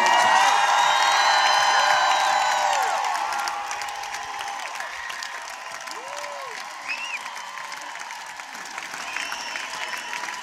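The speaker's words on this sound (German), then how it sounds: "Bitte einen fetten Applaus für Toni!" A large audience applauds and cheers for a performer named Toni at a Kelly Family award presentation, loud sustained clapping with shouts and whoops that eases slightly after a few seconds but keeps going.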